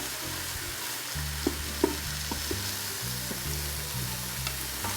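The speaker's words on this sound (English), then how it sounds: "Give a good stir." Cinnamon and spices for a Moroccan chickpea stew sizzle in an Instant Pot, with a steady frying hiss, a few spoon clicks from stirring, and music playing underneath.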